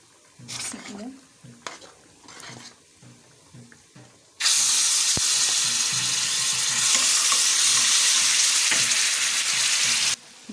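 Tomato sauce for Egyptian koshari hits a hot frying pan, which bursts into a loud, sustained sizzle and hiss after a few quiet stirring clicks, then cuts off near the end.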